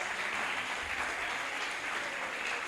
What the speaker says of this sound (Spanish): no démosle el aplauso al Señor